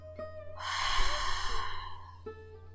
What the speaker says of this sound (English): exhale through the mouth, creating the sound. Imagine that you're fogging up the mirror